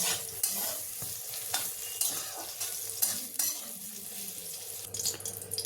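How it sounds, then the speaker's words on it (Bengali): Eggplant pieces fry in oil over a high gas flame while cooking dudh shukto with coconut milk. A steady, close sizzling hiss runs throughout, broken by occasional stirring and scraping. "গ্যাসের ফ্লেমটাকে একটু হাইতে রেখে আমি বেগুনগুলো ভেজে তুলে নিচ্ছি"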